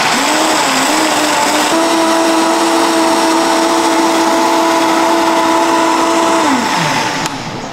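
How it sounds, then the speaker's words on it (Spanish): A kitchen blender runs steadily at full speed, blending coconut with water, its loud whining motor tone holding level before winding down and stopping near the end. "Ya te dije que esta licuadora tiene ponche."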